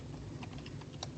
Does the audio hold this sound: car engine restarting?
no